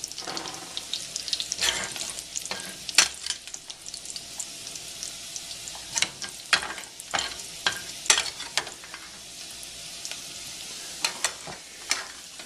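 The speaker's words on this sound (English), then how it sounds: "just use a slotted spoon and put it out here so we get it out of all that grease" Fried bacon lifted out of hot grease with a slotted spoon, producing a steady low sizzle punctuated by sharp metallic scrapes and clinks of the spoon against the pan at irregular intervals.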